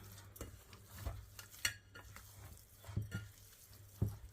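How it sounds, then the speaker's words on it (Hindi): Stirring almond paste into a milk mithai mixture in a pan, soft irregular scrapes and thick wet stirring strokes with light utensil clinks against a low background hum, fairly quiet and close. "इसको अच्छी तरह मिक्स कर लेती हूँ"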